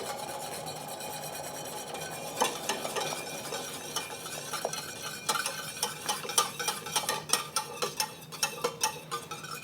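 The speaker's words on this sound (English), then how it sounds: "let's slowly whisk it in" Thickener is whisked into a sweet and sour sauce, with a soft bubbling simmer underneath and quickening, increasingly distinct clicks of the whisk against the pan, close but moderate in level.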